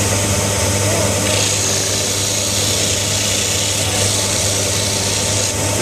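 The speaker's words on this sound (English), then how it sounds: "So we're going to use the disc sander here" A disc sander drones loudly and continuously as it rounds off the edges of a workpiece, a dense steady whirring roar with no pauses.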